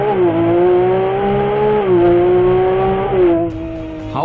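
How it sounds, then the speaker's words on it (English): Ferrari 296 GTB accelerating, its engine and exhaust giving a loud, steady, tonal drone that holds pitch, dips slightly at gear changes, then settles lower near the end. "let's try to make an acceleration and listen to the sound of the"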